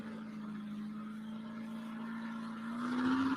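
A pulling truck running down a pulling track at about 27 mph: a steady engine drone that rises and grows louder near the end, with no talk.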